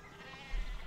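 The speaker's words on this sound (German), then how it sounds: "Boah, das Geblöcke der Schafe hier ist auch ein bisschen nervig." Sheep bleat in the medieval-themed video game Pentiment, a wavering, buzzy bleat carried over a low, continuous ambient game soundscape, moderately loud and without talk.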